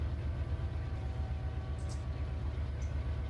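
A freight train rumbles along in the Run 8 Train Sim game on the Tehachapi route, a steady low engine drone with a rhythmic pulse and faint metallic squeals, no voices.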